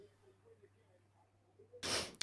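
A single sharp sneeze bursts out close to the mic near the end, breaking a quiet stretch of low hum, during a livestream watchalong of a Millwall vs Sheffield United football match.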